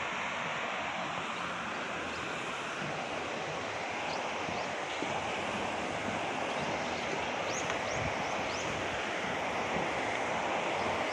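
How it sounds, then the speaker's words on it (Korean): Stream water flowing under a bridge beside a walking path near a busy road and apartments, a steady broadband rush that stays even and close throughout with no talking. "물소리 좋죠?"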